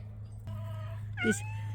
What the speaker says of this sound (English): This is Big Daddy Cat, and he's waiting for his wet food